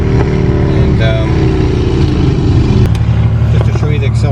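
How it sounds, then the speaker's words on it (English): A Buick GNX pulls away from a green light, its engine note climbing steadily in pitch, then shifting down as it changes gear and keeps pulling, loud and close under constant road and wind roar. "we'll just give this GNX here a little bit of gas"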